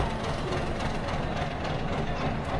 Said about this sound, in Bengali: ট্রেনের ইঞ্জিন কিন্তু গরম হয়ে গেছে।